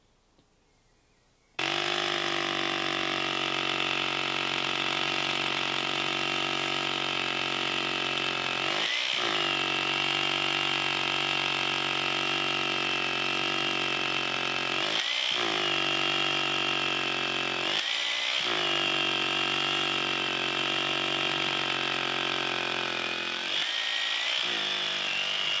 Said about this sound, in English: So now we'll move on to drilling holes.